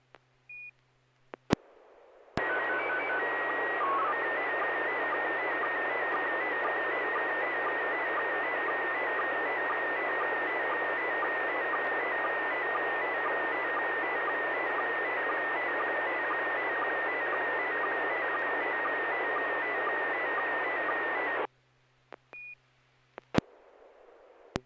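Slow-scan television test transmission sent over ham radio during an SSTV net, a steady, loud data tone sweep with a sustained leader tone running unbroken for about twenty seconds, bracketed by short beeps and clicks, with no voices.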